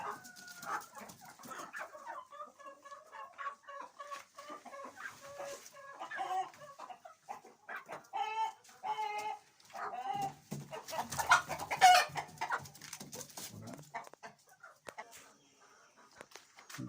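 Light Sussex hens at a heritage breeding setup in Rawalpindi cluck and murmur nearby in short, varied calls, with a few louder squawks, as someone talks over the flock.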